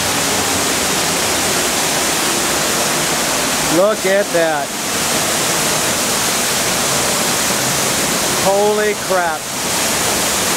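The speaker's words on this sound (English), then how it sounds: "There's the waterfalls." A steady, loud rush of falling water at Hamilton Pool, Texas, fills the whole clip, with a couple of brief excited voices speaking over it.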